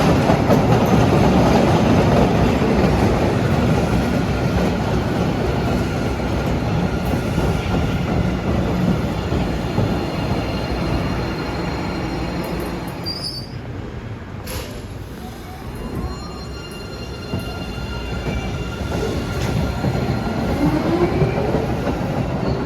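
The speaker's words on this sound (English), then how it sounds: "Comes another Bowden-bound train." Boston MBTA Blue Line subway train passing close by, a loud continuous rumble and roar of wheels on rail with a brief high squeal partway through, sustained throughout.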